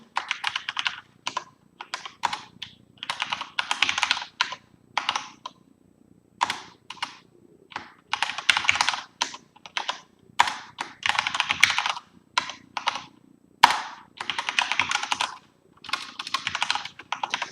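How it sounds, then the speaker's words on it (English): Data being typed into a spreadsheet on a computer keyboard: quick bursts of crisp key clicks separated by short pauses, close and clear, with no talking. "So let's go ahead and type this data in."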